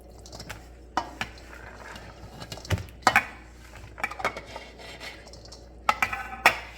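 Shredded cheese being stirred in a stainless steel bowl for a Dorito chicken casserole, with irregular metallic clinks and scrapes of a utensil against the bowl, close and fairly loud.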